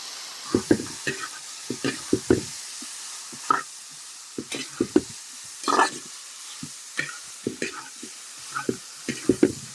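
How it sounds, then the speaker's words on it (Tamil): Halved quail pieces, breast and leg, sauté for a dhaba-style kadai masala, with a low sizzle under frequent irregular clacks and scrapes of a spoon against the pan, close and moderately loud, with no speech. "காடை வந்து உடனடியாக வதங்கிடும்"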